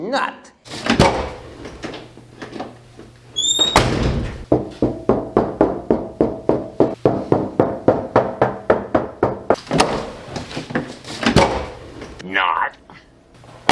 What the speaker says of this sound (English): opening and closing the passenger door versus the driver's door